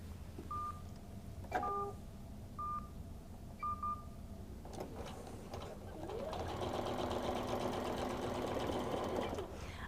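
A QuiltMotion X quilting machine gives several short electronic beeps, then starts stitching with a fast, steady mechanical whirr that runs to the end of the clip, close and fairly quiet.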